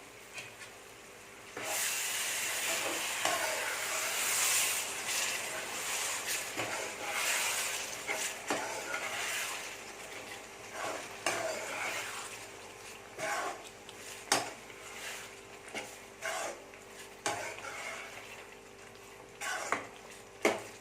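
Prawns cooked with curd for a prawn biryani are stirred in a cooking pot, giving repeated scraping and rubbing strokes against the pot over a soft sizzle, near and fairly quiet.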